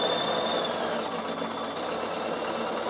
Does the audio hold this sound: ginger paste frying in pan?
no